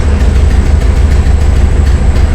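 A 1965 VW Bus engine restarts hot and settles into a steady, loud low-pitched idle with a rhythmic throb, close to the listener, with no talking.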